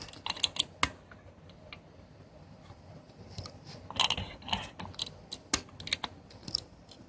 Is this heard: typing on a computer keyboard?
yes